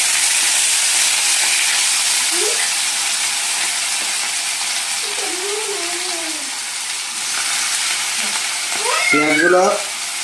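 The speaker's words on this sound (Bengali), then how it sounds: "পেঁয়াজগুলো আমি ভালো করে ভেজে নেব যতক্ষণ না পেঁয়াজগুলো একদম লাল লাল হয়ে যায়" Chopped onions fry in hot oil with whole garam masala for Bengali chicken kosha, giving a soft, even sizzle. A few short rising tonal cries, like meows, break over it now and then, with a louder burst near the end.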